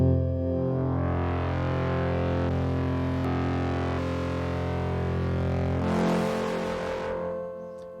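A sustained synthesizer chord passes through the Pulsar Primavera plugin's Germanium saturation, bright and forward with added high-end grit, held steadily before shifting and fading out.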